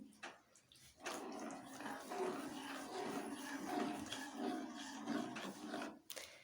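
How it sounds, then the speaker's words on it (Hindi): Water pours steadily for several seconds into a pot of moong dal being cooked dhaba style, a continuous splashing close to the microphone with no talking. "ये मैं इसमें थोड़ा पानी डाल रही हूँ।"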